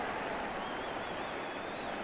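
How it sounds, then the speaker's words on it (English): A football stadium crowd roars in a dense, continuous wall of cheering and noise that holds steady and loud throughout. "This crowd turning up the decibel level."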